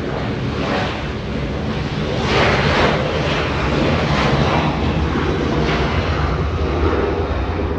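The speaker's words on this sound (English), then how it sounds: "Delta 766 flying to Raleigh, Durham, North Carolina. 737-900 getting a move on." A Delta Boeing 737-900 airliner powers up for takeoff, a loud, steady roar of jet engines with a broad rushing hiss that swells slightly midway and holds strong throughout, with no voices.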